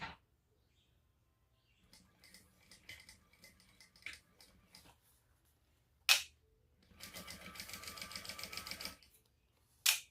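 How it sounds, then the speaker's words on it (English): Sewing machine stitching a thick, many-layered backpack seam, heard as quiet scattered bursts of needle chatter, then a sustained steady run of stitching near the end, with sharp clicks between. "going to stitch down this side at the seam allowance in the pattern"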